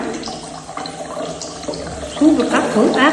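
Water gushing out of a balloon into an empty container in a kindergarten experiment, a splashing pour that grows louder toward the end, while an adult talks over it.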